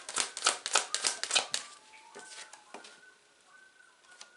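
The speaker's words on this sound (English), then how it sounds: "I don't know if you guys can hear that bird." A bird calling outdoors, with a burst of rapid, sharp clattering notes followed by fainter, scattered chirps, heard from a moderate distance.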